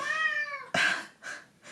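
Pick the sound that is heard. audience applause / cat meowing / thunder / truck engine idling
cat meowing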